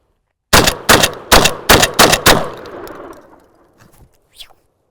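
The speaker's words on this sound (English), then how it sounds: "Okay, let's do a full mag dump." A shotgun empties its full magazine in six rapid, loud, close blasts about a third of a second apart. Each shot rings out sharply, and a few faint clinks from the spent shells follow.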